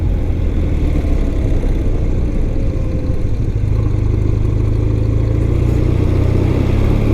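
A 1993 BMW R100GS motorcycle engine pulls steadily in second gear from low revs, a loud, continuous close-up drone with a rising low hum and some mechanical clatter, no voices.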